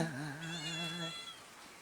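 A cat meows in a drawn-out, wavering call that lasts about a second, then fades into quiet room noise; fairly soft and close, with no talk over it.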